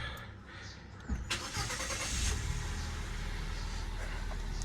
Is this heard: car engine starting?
yes